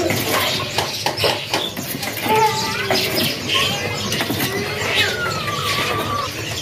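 Caged songbirds chirp and whistle at a bird-selling kiosk, several thin calls and trills overlapping against steady market background noise, fairly close and continuous.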